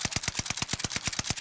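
Sustained automatic gunfire in Warzone, a steady, evenly spaced rattle of about a dozen crisp shots, close and fairly loud, with no talk over it.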